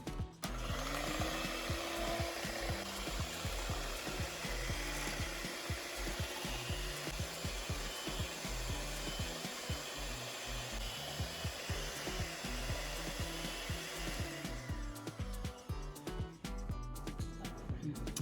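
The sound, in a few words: electric mixer beating fresh cream in a bowl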